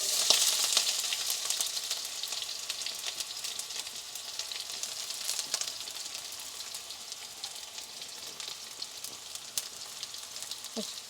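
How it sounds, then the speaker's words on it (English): Chili fries in a pan for an eggplant stir fry, giving a continuous crackling sizzle with dense tiny pops, close and moderately quiet, with faint stirring and no voices. "So I'm going to add the chili."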